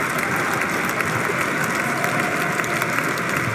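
Audience applauding Donald Trump's inauguration speech, a dense, steady wash of clapping from a large crowd that holds at an even level throughout.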